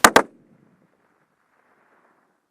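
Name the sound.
simultaneous rifle shots from Savage rifles at 1,000 yards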